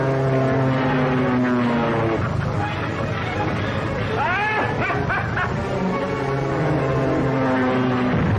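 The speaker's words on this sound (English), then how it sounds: "Rocket plane 8 miles off Devil's Point," A rocket plane flies overhead off Devil's Point, a steady droning engine roar with brief rising and falling whistling sweeps midway, loud and continuous throughout.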